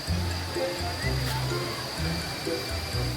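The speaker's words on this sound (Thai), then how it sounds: "เป็นป่า ป่าน้ำตกนะฮะ" Water rushing at a forest waterfall and stream, a steady broadband wash of flow with low rumble, heard close and continuous throughout.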